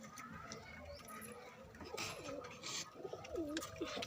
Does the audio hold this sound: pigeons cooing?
yes